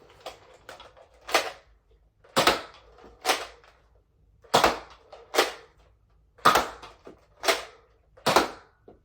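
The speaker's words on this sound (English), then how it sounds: "Let's get into a firing demo. Starting out, Nerf Elite darts." A Nerf Elite Scout MK II blaster fires Nerf Elite darts, sharp spring-powered pops with a click between them, eight or so shots spaced roughly a second apart, close and alone.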